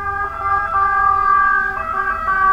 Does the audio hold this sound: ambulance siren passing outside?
yes